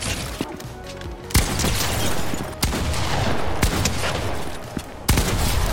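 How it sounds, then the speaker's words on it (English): Repeated shotgun blasts in a video game, four or five sharp loud reports spaced about a second or more apart, each ringing out over a steady roar of game background noise. "Test out the range on this shotgun."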